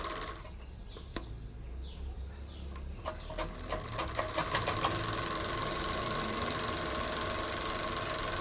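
A sewing machine runs a straight stitch on a cloth diaper, starting with a few soft clicks, then building into a steady, fast mechanical whirring that continues to the end, fairly quiet and close.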